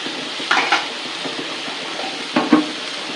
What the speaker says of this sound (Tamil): இப்போ இதை நம்ம கத்திரிக்காயை போடுறோம். இந்த மாதிரி ஒரு வதக்கிக்கிறோம் நல்லா எண்ணெயிலேயே.